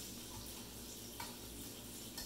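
Onion rings fry in very hot oil with a steady, faint bubbling sizzle and a couple of small pops, heard alone without talk.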